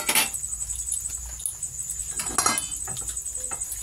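An egg fries on low heat in a pan of oil, a steady soft pattering sizzle with occasional faint clinks, close up and without talking.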